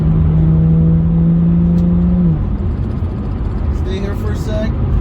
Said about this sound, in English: play with the paddle shifters. 6th gear, 5th gear. I want to go left, 4th gear, 3000 RPM.